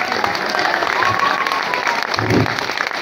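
Sustained applause from a crowd at a music and dance program, loud and continuous throughout, with a brief swell near the end and a faint voice underneath.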